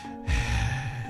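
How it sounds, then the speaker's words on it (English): A sharp breathy intake of breath, like a gasp, followed by a ragged exhale, heard up close and alone in a scene from the visual novel game Tsukihime. "you hear that breathing ASMR?"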